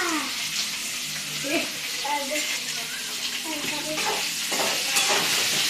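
Onion goes into a hot pan and fries with a steady, loud sizzle and some stirring, while voices talk over it throughout.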